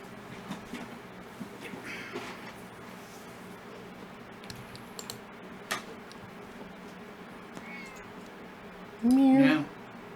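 A small cat meows at about the nine-second mark, one short rising call that stands out loudly over a steady low hum with faint background noise and scattered ticks.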